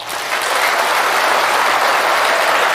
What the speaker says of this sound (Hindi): हाथ उठा के सब लोग एक साथ ताली बजाइए